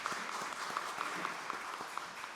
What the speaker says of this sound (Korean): 우리 모두 격려의 박수 하겠습니다.